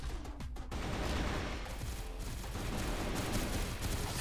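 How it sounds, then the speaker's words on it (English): Gatling guns roar in CrossFire West, a continuous dense barrage of loud, close fire that starts after a brief opening and keeps going without pause, with no voices. "Man, too many Gatling guns, dude."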